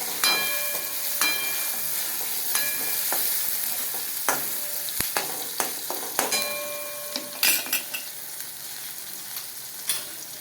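Onions and tomatoes sizzle and fry in a pan for a bitter gourd curry, a steady bright hiss running throughout, with sharp spatter pops and utensil clinks scattered over it, close and fairly loud, with no one talking.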